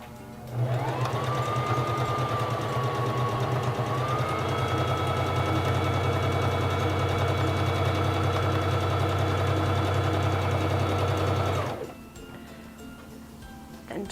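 A Singer Fashion Mate 3333 sewing machine stitches fabric in one continuous run of fast, steady whirring and needle chatter, close and prominent, then stops abruptly near the end, leaving quiet room tone.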